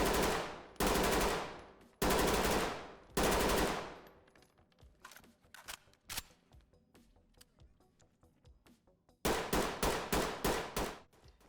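BRN-180 rifle fire in the game Ready Or Not: three loud single shots with decaying tails, a quieter stretch of clicks and mechanical handling, then a rapid burst of six shots.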